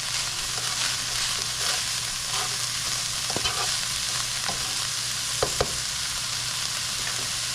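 Beef enchilada filling, softened with onions, heats in a frying pan with a steady close sizzle, broken by a few sharp scrapes and stirs from a utensil against the pan.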